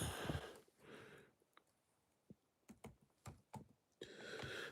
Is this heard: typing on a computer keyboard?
yes